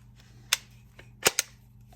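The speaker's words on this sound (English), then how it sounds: "There's one click, and then fully retracted." Metal stock on an MP5 SB Tactical HKPDW snapping into position: a sharp single click, then a quick double click close up, in a quiet room.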